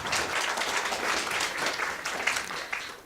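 A ceremony audience applauds steadily in a dense, continuous wash of many hands clapping, sustained at an even, fairly loud level with no voices over it.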